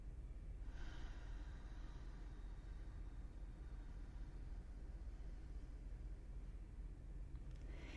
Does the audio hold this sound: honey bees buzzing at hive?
no